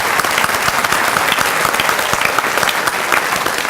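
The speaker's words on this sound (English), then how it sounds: "So please, please, please give him a big round of applause from Live with Jeff, Jeff Reinerson." Sustained applause from an audience at a chamber of commerce breakfast meeting, welcoming a new member; dense, steady clapping that stays loud and even throughout, with no speech over it.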